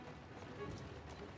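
Horse galloping in the Assassin's Creed Syndicate video game, a steady rapid hoofbeat rhythm running throughout at moderate level, blended with game ambience and a voice talking over it.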